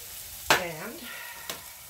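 Onions frying in a pan, a soft continuous sizzle with two faint clinks or stirring taps, and a voice speaking briefly over it.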